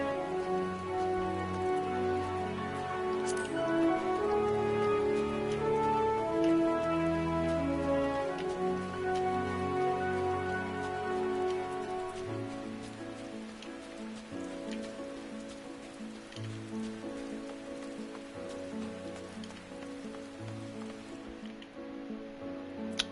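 Steady rain falls in a video game, a continuous hiss of drops on surfaces that sits under layered game music and gradually softens toward the end.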